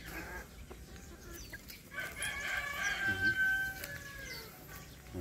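Backyard chickens cluck and crow close by, with a rooster's crow rising over steady hen clucking and soft farmyard chatter throughout.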